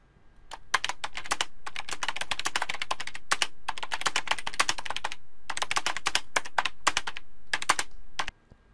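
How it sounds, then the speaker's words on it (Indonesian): Rapid, continuous typing on a computer keyboard in Microsoft Word, close and crisp, with irregular clusters of key clicks and a brief pause before it stops. "Selesai mengetik kalimat kedua"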